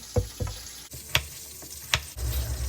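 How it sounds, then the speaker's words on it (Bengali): Fish heads fry in hot oil with a continuous sizzle, broken by a few sharp scraping and clinking stirs close by. "মাথাগুলো ভাজা হয়ে গেল এবার আমি তুলে নিচ্ছি"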